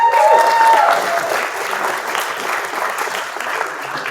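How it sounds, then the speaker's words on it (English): Loud applause from the audience at a Northeastern University Entrepreneurs Club demo day starts at full strength with a brief whistle, then settles into a steady, slightly softer clapping wash. "So another round of applause for that,"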